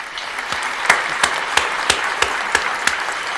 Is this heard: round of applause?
yes